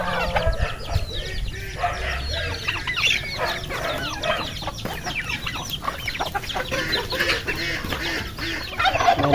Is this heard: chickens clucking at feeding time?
yes